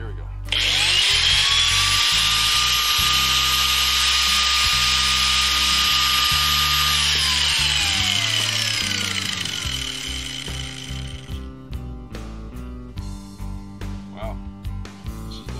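A power saw running off a generator during a DIY electric bike build, with a loud, continuous high whine that holds steady, then drops in pitch as it winds down, followed by clattering tool noises.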